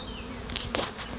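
Honeybees swarm around a hive box with a close, steady buzz, as single bees zip past the ear in short, louder passes and no voice is heard.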